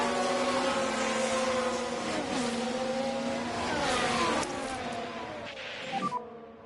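Formula 1 race car engines in the F1 Manager 24 racing game on PS5 whine and shift pitch as cars brake and accelerate, several engine tones overlapping and sliding up and down before fading.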